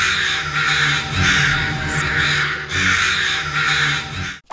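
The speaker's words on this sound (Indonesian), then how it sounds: "saat seseorang membawa burung gagak yang mati, burung gagak ini akan berkoak dengan kencang." Crows caw loudly and repeatedly in harsh bursts at a person carrying a dead taxidermied crow, the calls overlapping and close.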